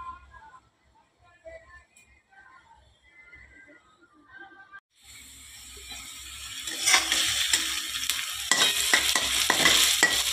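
Goat mutton hits a hot pan for a Holi lunch curry and starts frying loudly halfway through, with steady sizzling, scraping spoon strokes and clatter from stirring. Before that there is only quiet kitchen noise.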